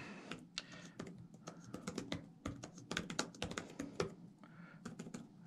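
Quick, uneven keystroke clicks on a computer keyboard during an online typing exercise that includes capital letters, a steady close patter of taps that runs without pause and with no voice.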